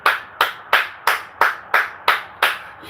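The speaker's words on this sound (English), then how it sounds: "Sometimes I just break out clapping." Eight sharp hand claps at a steady, unhurried rhythm, each snapping loudly and ringing briefly, close by with no talking.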